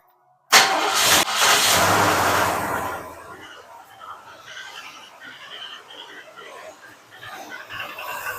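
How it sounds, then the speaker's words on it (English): A car engine cranks and fires up with a brief loud burst, then settles into a quieter running idle, with the valve cover loosened on one side while listening for valve train clatter. "I'm going to give it a little gas. Hit the key. See if it clatters."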